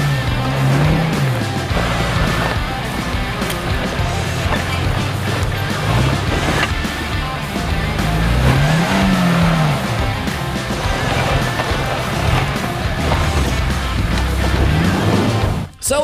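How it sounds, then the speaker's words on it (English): A 1986 Suzuki Samurai tin top with a small, roughly 60-horsepower engine drives off-road on dirt trails, its engine droning steadily under constant rumble and rattle, with revs rising and falling a few times. "We're taking a 1986 Samurai Suzuki out with Sean Williams."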